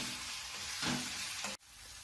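Ginger garlic paste sizzling in a pan while being stirred for paneer butter masala, a soft steady frying hiss with scraping stirs, ending in a brief sharp knock.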